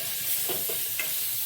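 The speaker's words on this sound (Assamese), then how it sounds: "তিতা কেৰেলা ভজা হৈ গ'ল, নমাই দিওঁ। তেল কম দিছোঁ" Bitter gourd frying in a small amount of oil, a steady soft sizzle with a couple of brief stirring scrapes, heard close with no talking.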